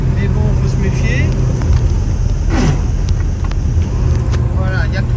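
A vintage Studebaker with a three-speed gearbox drives along, its steady engine drone and road rumble continuous throughout, with someone talking over it.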